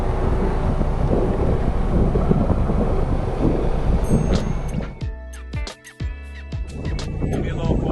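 Boat motor running at anchor in blustery summer-storm conditions, steady wind buffeting the microphone throughout, with the engine hum partly masked by roaring wind noise before a few clicks and knocks near the end.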